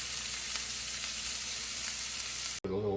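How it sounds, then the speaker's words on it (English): Chorizo fries and toasts in a hot pan, giving a steady loud sizzle throughout with no talking. "Get it in, and we're going to slightly toast it."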